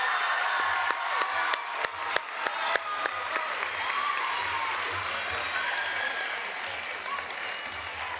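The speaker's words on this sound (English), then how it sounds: "Let's give this group a hand." Sustained applause from a school awards-ceremony audience greets a group of seventh-grade award recipients, a dense, steady wash of clapping with a few sharper claps standing out and no talk over it.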